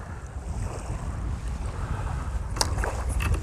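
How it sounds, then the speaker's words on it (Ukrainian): Strong wind roars steadily against the microphone while fishing in Kyiv in October, a dense rushing noise with a few brief clicks near the end and no voices. "А зараз вже півгодини почався сильний вітер."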